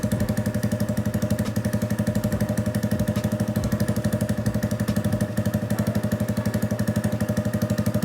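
A Honda Grom motorcycle engine with a newly installed cam idles steadily, its rapid, even chuffing pulse loud and close and holding unchanged throughout, with no voices.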